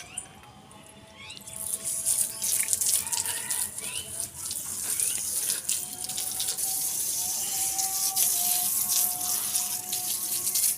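Steady, loud spray of water hisses continuously after a brief quiet start, with small clatters and squeaks mixed in.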